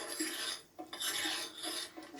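A utensil scrapes and stirs through a salt and sugar brine in a bowl, giving a close, continuous gritty scraping in three strokes with a brief pause between them.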